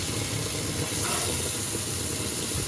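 Half stick of butter in a very hot pot on the stove, giving a steady, bright hiss and sizzle that runs evenly and loud throughout, with no voices.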